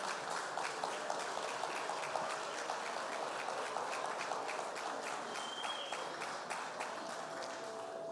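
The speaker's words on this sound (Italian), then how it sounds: "Possiamo fare un altro grande applauso al nostro gruppo di teatro B-Mime" A large audience at a church Christmas musical claps steadily for a mime theatre group, dense even applause throughout, somewhat distant and fairly quiet.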